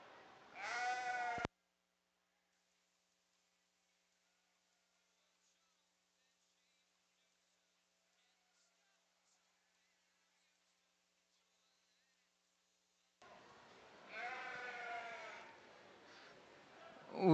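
At a sheep show, two loud, wavering bleats sound close by, one at the start and one near the end, with a long silent stretch between them.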